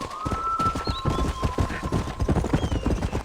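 Horse hooves clip-clopping on a Western ranch in an open-world cowboy game, a rapid steady trotting rhythm close by, with faint whistling or bird-like tones above it.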